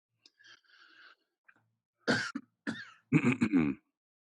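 A few short, harsh coughs burst out close to the mic after a faint breathy noise, the last ones loudest and grouped together.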